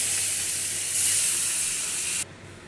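Pieces of catla fish hit hot oil in a pan for Bengali fish curry, giving a loud, steady frying hiss that holds for about two seconds, then drops off sharply to a quieter background.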